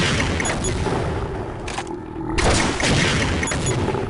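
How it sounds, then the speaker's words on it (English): Rocket blasts striking a Xen boss in Half-Life MMod, dense booming explosions filling the clip with a brief lull before another heavy rumbling burst. "the way you kill him is by shooting him with rockets"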